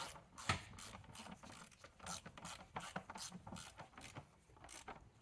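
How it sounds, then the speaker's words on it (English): Torque wrench ratcheting as it tightens the ignition coil bolts on a 2006-2023 Chrysler 300 engine to 7-9 Nm, producing close, crisp bursts of rapid clicking with short pauses between strokes and no talking. "Got our torque wrench set to the correct torque spec, and now we bring them all down."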